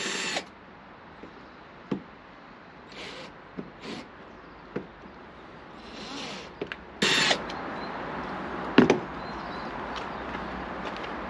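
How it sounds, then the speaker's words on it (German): A cordless screwdriver whirs in brief bursts while backing out slotted screws during a refit, with sharp tool clicks and knocks between pauses, close and alone. "Leider sind das ganze Schlitzschrauben, aber mit genauen Ansätzen gehen sie mit dem Akkuschrauber auf."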